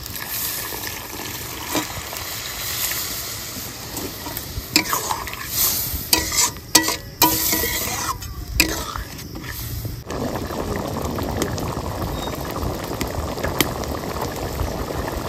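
Water is poured into a pan of frying chickpea curry, with loud stirring and sizzling that shifts into a steady bubbling simmer after the pour, close and continuous with no talk.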